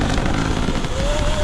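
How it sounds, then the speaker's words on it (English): Gas-powered dirt bikes on trails give a continuous rough engine drone with one bike's pitch slowly rising, close and noisy throughout the short stretch. "Riding a few gas bikes today. Noisy."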